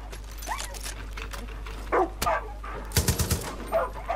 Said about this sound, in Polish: Ja pierdzielę, jak mnie już denerwuje ten pies!